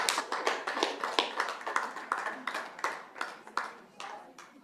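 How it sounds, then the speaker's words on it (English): A few people clap at a school governing board meeting during public comment, sparse individual claps in an uneven rhythm, fairly close and moderately loud, with no talk. "we can't have any applause during public comment"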